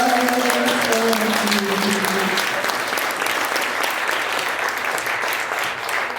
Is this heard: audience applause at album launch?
yes